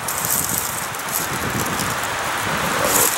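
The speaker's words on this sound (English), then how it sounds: "Kind of trying to fight the wind here" Steady wind gusting outdoors against the microphone, a continuous broadband rush with slight rustling, moderately loud throughout and swelling near the end, no talk.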